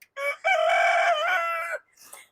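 A rooster crows once, loud and close: a short opening note, then a long sustained harmonic call that trails off, followed by a brief softer cluck.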